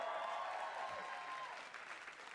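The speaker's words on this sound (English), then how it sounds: "I'm gonna run applause for my mustache." Canned applause sound effect played during a comedy podcast, a soft, steady wash of clapping at low level that thins slightly toward the end.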